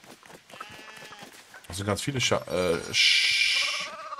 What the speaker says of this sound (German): Ah, da ist noch ein Schaf.